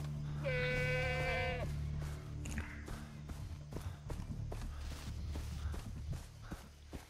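A goat in Far Cry 3 lets out one loud wavering bleat up close, followed by running footsteps and scuffling sounds, with someone talking.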